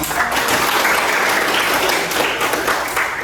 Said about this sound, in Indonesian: Beri tepuk tangan dulu untuk semuanya.